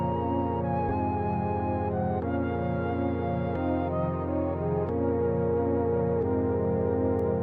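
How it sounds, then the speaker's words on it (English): A flute melody carried over sustained Juno synth organ chords, with the harmony changing every second or so under the steady tone, moderately loud and without any talking. "I combined it with this Juno synth organ."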